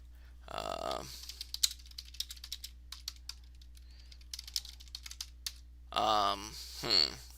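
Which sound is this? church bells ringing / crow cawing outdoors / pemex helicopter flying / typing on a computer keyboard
typing on a computer keyboard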